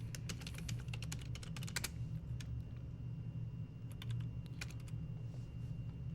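Fast, irregular clacking keystrokes on a computer keyboard during a live hacking session, clustered in quick bursts with short pauses, over a low steady hum.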